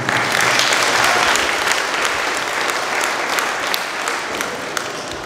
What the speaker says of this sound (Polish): Prosimy jeszcze raz o brawa